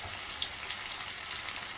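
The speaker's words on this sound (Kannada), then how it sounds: "ಎಣ್ಣೆ ಬಿಸಿಯಾಗಿದೆ ನೋಡಿ. ನಾನು ಇದಕ್ಕೆ ಬೆಂಡೆ ಫ್ರೈಯನ್ನು ಹಾಕ್ತಾ ಇದ್ದೀನಿ." Okra slices fry in hot oil for lady finger chips, a steady close crackling sizzle with a few brighter pops scattered across the short stretch.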